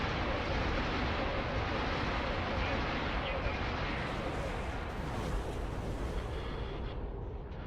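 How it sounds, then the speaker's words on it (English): Heavy ion cannons fire in the space game X4: Star Wars Interworlds, a dense, sustained roaring barrage with booming low rumble that thins slightly toward the end. "Heavy ion cannons are away."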